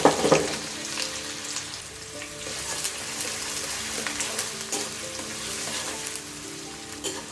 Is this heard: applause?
no